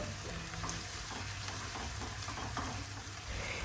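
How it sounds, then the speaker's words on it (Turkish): Kapia pepper, onion and garlic sauté in a pan with a quiet, even sizzle and a soft hiss that holds steady throughout. "Kapya biber, soğan, sarımsak hepsini bir güzel kavuruyoruz."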